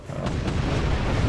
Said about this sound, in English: I see your cannons firing in the distance.